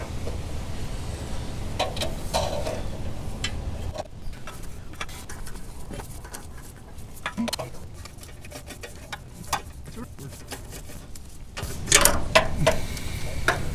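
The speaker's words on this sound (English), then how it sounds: "we're just going to run these 3 nuts up till they stop, and then we'll get the torque wrench" Hand ratchet clicking as nuts are run up on the exhaust header flange of a Toyota 3RZ engine, with bursts of rapid pawl ticks and short pauses, close up over low shop rumble.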